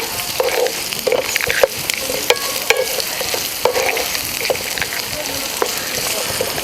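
Onions sauté in a pan for tomato chutney, a continuous close sizzle broken by scraping, clinking stirring strokes.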